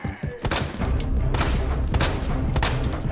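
Several close, sharp gunshots ring out one after another in Resident Evil 2 over a dense, loud game background.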